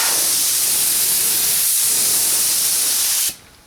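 A spray gun lays etch primer onto aluminum outdoors in a continuous loud, close hiss that holds steady for about three seconds and then cuts off abruptly into near silence.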